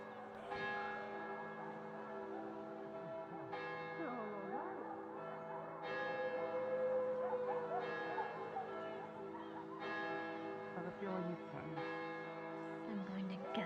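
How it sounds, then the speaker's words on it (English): Church bells ring continuously in overlapping peals, a sustained bright tolling with strikes recurring every couple of seconds, while voices talk faintly underneath. "It doesn't seem like they heard the bells through the other bells."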